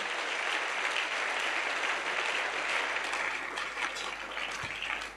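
Congregation applauding in a church service, a steady dense wash of many hands clapping, sustained and fairly loud throughout with no talking over it.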